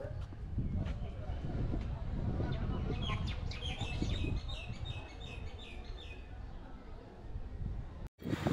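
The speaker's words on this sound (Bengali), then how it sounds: "পাখির ডাকাডাকি।" Birds chirp and call repeatedly amid the trees and shade of the national zoo in Mirpur, Dhaka, a busy run of tweets over steady outdoor background noise.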